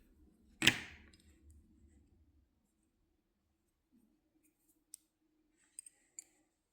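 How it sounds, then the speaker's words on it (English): Scissors snip through gray yarn in a single close, crisp cut, followed by quiet handling and a few faint clicks. "You can cut the gray yarn."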